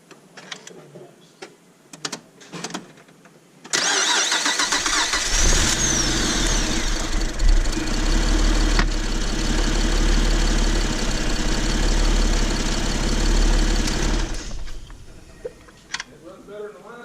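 A 2005 Acura MDX engine cranks and catches after quiet shop sounds, then settles into a loud, steady idle with a deep low hum that runs about ten seconds before shutting off; a voice is heard near the end.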